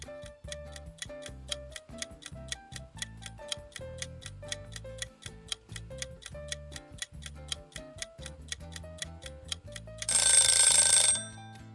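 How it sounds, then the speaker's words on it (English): A countdown timer clock ticks steadily at about three ticks per second with a soft melodic tone under each beat, ending in a short burst of bright ringing alarm; faint and alone. "I'll set the timer and give you 10 seconds to think it over."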